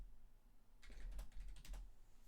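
A short burst of rapid typing on a computer keyboard, a quick run of clustered key clicks close to the mic after a quiet start, with no speech.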